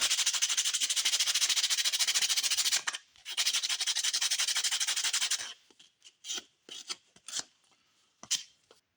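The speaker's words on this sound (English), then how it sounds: "We'll hand sand it a little more, then drill a couple holes for eyes." Steady rapid scraping of hand sanding on a 2x4 wood piece, continuous for a few seconds, pausing, then resuming before breaking into short, scattered strokes.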